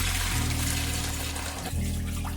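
Finger millet and rice grains being washed in water, a brief close sloshing and swirling of liquid through the grains with no talking.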